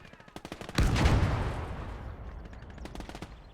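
Gunfire and a grenade blast in the World War II game Gates of Hell: a string of sharp rifle and machine-gun shots, then a heavy booming explosion that rumbles and fades before more rapid gunfire resumes.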